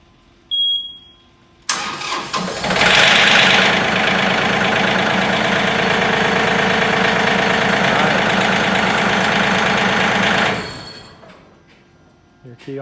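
After a jump start, a tractor engine cranks and catches, then runs loudly at a rough, knocking idle for several seconds before shutting off; a brief beep comes beforehand.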